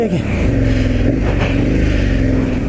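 Motorcycle on Motoz Rallz Tractionator adventure tires powering through deep sand, a loud close engine revving steadily under load with a throaty growl.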